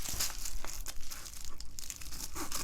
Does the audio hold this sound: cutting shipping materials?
yes